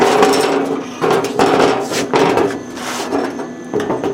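A child hammers on a motorized scooter frame fitted with gusset plates, striking a series of loud, uneven, fairly close metallic blows spaced about half a second apart.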